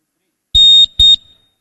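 A quiz buzzer at a university capital market challenge awards ceremony sounds twice in quick succession, two loud electronic tones, the first longer than the second, with no talk over them.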